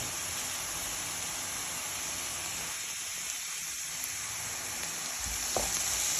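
Green chillies and curry leaves frying in oil alongside onions for a green cowpea bean thoran; a constant hissing sizzle throughout, fairly even and close, with a faint clink near the end and no speech.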